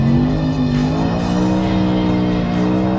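A 4-liter BMW M3 V8 that redlines near 9,000 RPM revs high and loud, its engine note climbing and holding in a sustained, close-up howl.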